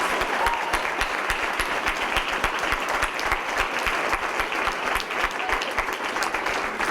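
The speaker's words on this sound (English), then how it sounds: "Let's give them all a round of applause again." Steady, dense audience applause fills a celebration night, many hands clapping continuously at even volume with no voices over it.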